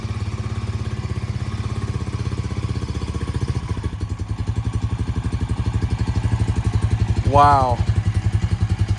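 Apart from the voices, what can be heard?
Honda Rancher 350 ATV engine running after starting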